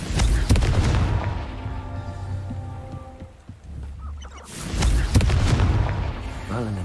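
Confringo blasting spell explosions from Hogwarts Legacy, heavy booming bursts near the start and again after a short lull, with game music underneath.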